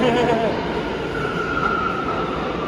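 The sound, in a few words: New York MTA subway train at Euclid Avenue station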